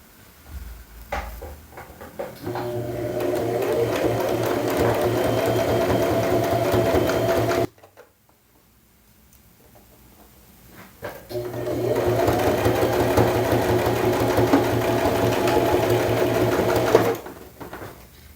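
A sewing machine runs a long seam along a robe made from a Mood Fabrics fleur pattern. It stitches in two steady, sustained runs separated by a few seconds of quiet.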